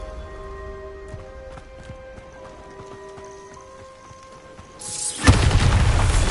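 A Bombarda spell explosion in Hogwarts Legacy erupts as a loud, close burst of broadband noise and rumble after a quiet stretch of soft footstep-like clops and tonal ambience.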